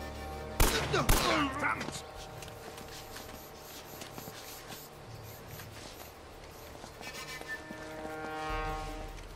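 Gunfire in Uncharted: Drake's Fortune on PS4, two sharp loud shots near the start followed by a long quieter stretch of ambient game sound with faint clicks.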